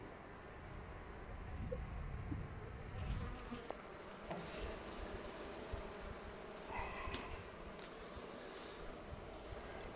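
Drone honeybees at an opened hive make a dense, continuous buzzing drone that fills the whole stretch, close and steady, with a few faint knocks and no talk.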